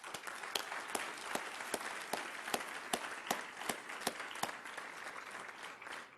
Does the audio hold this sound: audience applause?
yes